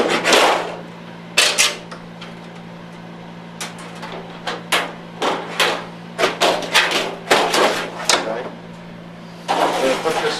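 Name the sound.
cutting a piece of tin ceiling filler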